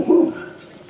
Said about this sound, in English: So if people are walking by the street in front of the house, he's gonna be barking.